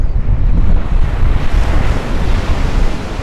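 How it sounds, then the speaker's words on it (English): Ocean surf at Sugar Beach on Maui, Hawaii, a loud continuous wash of breaking waves with gusty wind buffeting the microphone throughout. "replacing all the chatter, clumsy language and words with the sound of the ocean"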